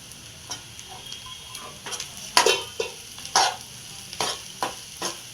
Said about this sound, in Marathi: चांगलं परतून द्यायचं आपल्याला हे पण तेल सुटेपर्यंत परतून देऊया